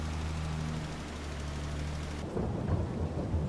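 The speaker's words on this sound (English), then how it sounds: "The nice part about the rain is it gets our tractor all cleaned up." Rain with rolling thunder in the Farming Simulator video game: a low steady rumble gives way to heavier rain hiss and crackling thunder that grows louder near the end, with no voices.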